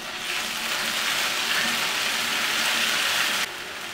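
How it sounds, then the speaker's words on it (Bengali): Ground spice paste hits hot oil and sizzles loudly and steadily for a few seconds, then drops off slightly near the end, as part of cooking a Bengali egg and potato curry (dim alur jhol). "এবার বাটা মশলাটা দিয়ে দিলাম"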